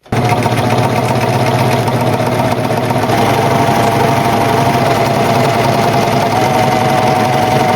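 A Singer Professional 5 sewing machine stitches a rolled hem at a short stitch length, a loud, fast, even mechanical whir running continuously close by.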